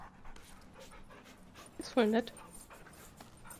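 A dog in the video game Remnant from the Ashes pants softly, then gives one short, loud whimpering whine midway, while someone speaks over it.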